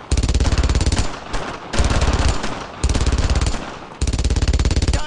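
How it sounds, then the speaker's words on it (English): An MG-42 machine gun rattles in four long, rapid bursts separated by short pauses in the World War II shooter Brothers in Arms: Road to Hill 30, loud and close with no talk over it. "Target at MG-42!"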